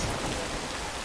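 Steady, dense rain falls in the video game Death Stranding, a close and even wash of drops with no voices and no break across the short stretch.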